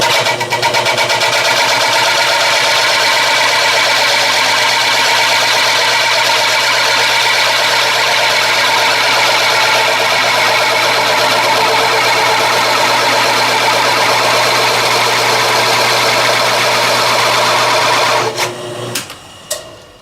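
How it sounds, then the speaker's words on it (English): Adjustable boring tool cutting a hole, with a steady, loud, continuous machine drone and cutting whine running unbroken, then stopping abruptly near the end. "we've got our adjustable boring tool lined up to the approximate diameter"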